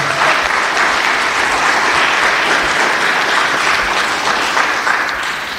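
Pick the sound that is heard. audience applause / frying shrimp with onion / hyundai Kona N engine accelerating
audience applause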